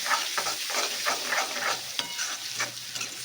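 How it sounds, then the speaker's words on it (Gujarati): Spices frying and sizzling in hot oil on a tava for Mumbai-style tava pulao, with a steady close crackle and intermittent scraping strokes of stirring. "બધું સારી રીતે કૂક કરવાનું છે જેથી મસાલાનો કાચો ટેસ્ટ ન રહે અને સરસ ચડી જાય"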